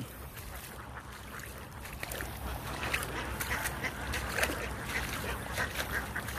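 Ducks quack in a harvested rice field, a dense, steady flock chatter of overlapping calls at moderate distance, continuous throughout with no talk.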